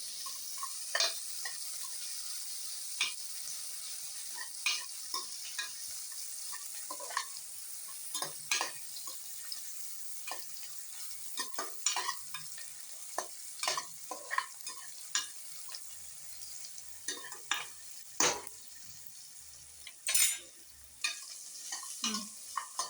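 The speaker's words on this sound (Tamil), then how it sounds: "இப்போ வெங்காயம் நல்லா வதங்கணும்" Chopped onions and curry leaves sauté in a pan with a soft steady sizzle, broken by frequent sharp scrapes and taps of a stirring spoon against the pan, close and fairly quiet with no talk.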